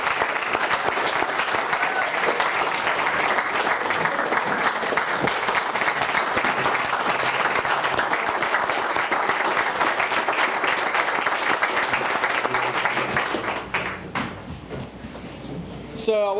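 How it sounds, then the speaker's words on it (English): Sustained applause from a banquet audience at a high school basketball championship dinner, loud and dense clapping filling the room for over ten seconds before thinning out and fading near the end. "I want to give him a round of applause"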